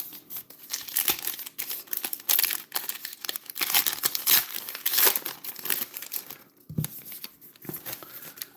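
A stubborn 2024 Heritage High Number hobby trading card pack wrapper is crinkled and torn open close up, with bursts of crackling foil and ripping that come and go over several seconds; no one speaks.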